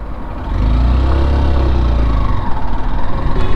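Honda Shine SP 160 motorcycle running in second gear, a loud steady low engine drone that swells after a quiet start and holds with slight pulsing toward the end, no talk.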